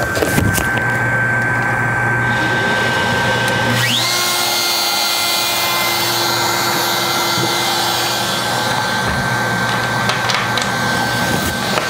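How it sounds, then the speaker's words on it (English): A loud power router whines continuously while cutting out a lid, its pitch shifting as it bites in and cuts steadily, with no talking. "this router is going to go around and cut the lid out"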